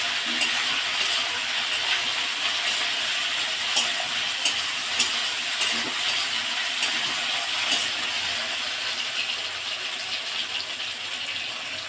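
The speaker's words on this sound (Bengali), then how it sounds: "স্বাদ মতন চিনি দিয়ে এবার এটাকে ভালো করে নেড়ে নেব।" Chilli chicken with sugar is stirred in a frying pan, giving a steady sizzle with light scraping and rattling from the utensil throughout, and no talking.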